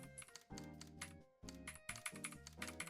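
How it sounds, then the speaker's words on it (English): Rapid clicky computer keyboard typing with a typewriter-like clatter, sharp close keystrokes in quick bursts with a short pause around the middle, over a steady tonal background. "I have the clickiest keyboard there is. In fact, let me remind you how clicky this is."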